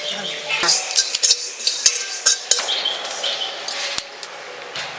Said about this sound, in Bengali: এখন আমি আস্তে আস্তে সব কিছু ভেজে নেব, শুকনোগুলো ভেজে নেই।